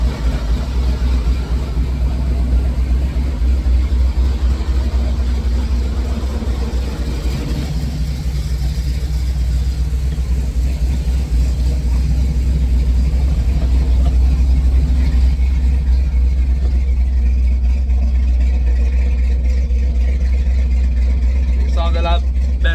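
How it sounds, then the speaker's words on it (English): A strong V8 car engine idles steadily in a garage, a loud constant low rumble that runs throughout, with a person talking intermittently over it. "car idle's good, it's real strong, it's a real strong motor"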